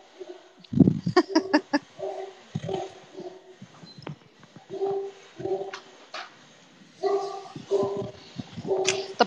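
A big dog of about 140 pounds gives a run of short, loud barks up close, then breaks into high whimpers and yips, with scattered quieter sounds in between.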